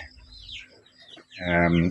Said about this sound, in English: And the new hatchlings are in here.